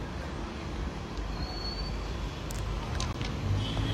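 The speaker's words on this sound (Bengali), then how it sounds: "বাংলাদেশ রেলওয়ের বহরে যে অত্যাধুনিক ক্রেন বা মাল্টি টাস্কার ট্রেন রয়েছে সেইটি নিয়ে আসা হয়েছে" Bangladesh Railway multi-tasker crane rescue train rumbles along the line near Gandaria station in Dhaka, a steady, dense low roar with occasional faint metallic squeals and clicks, continuous and moderately loud throughout.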